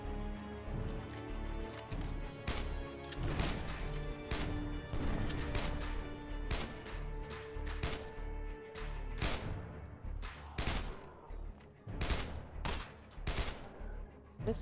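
Rapid gunfire from a firearm in the zombie survival game State of Decay: a dense run of loud, sharp shots in irregular bursts, some pauses between volleys.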